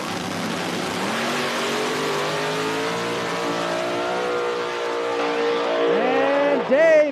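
No-prep drag race cars at National Trail Raceway roaring down the track, a sustained high engine drone that rises in pitch and ends in a loud close burst, with an announcer talking over it.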